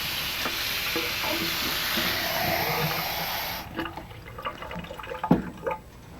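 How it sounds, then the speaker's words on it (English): Half a cup of cold water pours into a powdered milk mixture in a kitchen with a close, steady rushing splash for about three seconds, followed by a few light clinks and stirring sounds. "We'll add 1/2 cup of cold water to this."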